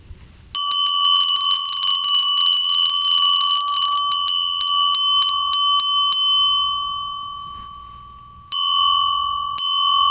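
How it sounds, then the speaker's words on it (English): A Chinese-style bell with a fluted edge is struck repeatedly, giving bright, dissonant metallic rings with long sustained overtones that decay, then a final fresh strike near the end. "Here's a Chinese style bell. You'll see a lot of Chinese ones with this sort of fluted edge here."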